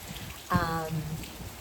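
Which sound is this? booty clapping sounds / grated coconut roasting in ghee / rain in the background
rain in the background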